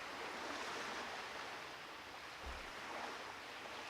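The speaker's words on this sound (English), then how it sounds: "Freaking copyright for some water sounds." Ocean water in World of Warcraft: a steady, soft wash of waves and surf, continuous and faint with a gentle wind-like hiss throughout and no voices.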